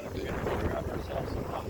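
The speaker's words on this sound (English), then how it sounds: "It is really windy out here, though." Strong wind blusters outdoors beside the St Clair River, a steady, close roar buffeting the microphone with low rumbling gusts throughout.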